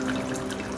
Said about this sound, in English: But it's brewing a pot of coffee.